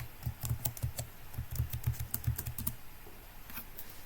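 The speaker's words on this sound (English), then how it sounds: "let's go back to our Windows 10 user account and then type the password" Someone types a password on a computer keyboard, a close run of light, quick key clicks in uneven bursts that stop after a couple of seconds, leaving a low background hum.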